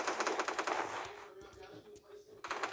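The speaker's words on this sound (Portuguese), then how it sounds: "Esses caras estão levando tudo tiro" Rapid automatic gunfire bursts from the Free Fire video game rattle in quick strings, pause briefly with scattered single shots, then resume, loud and close, with a voice talking partly over it.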